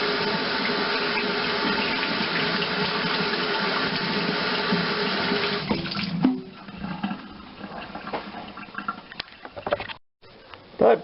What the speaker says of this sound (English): now let me just wash my hands real quick